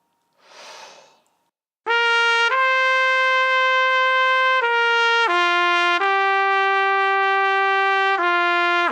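A trumpet plays a James Stamp warm-up exercise, a series of sustained clear notes stepping down and back up, loud and close, after a soft breath at the start.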